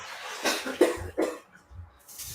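Three or four harsh, close coughs in quick succession, each a rough burst, with short pauses and a quiet room between them.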